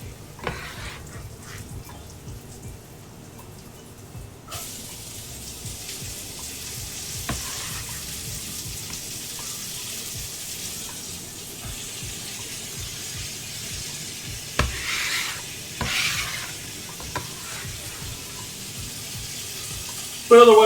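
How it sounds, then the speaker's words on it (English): Onions frying in a stovetop pan with sausage for cassoulet, a continuous moderate sizzle broken by occasional clinks and stirring knocks, with a louder clatter at the very end. "We'll add our onions."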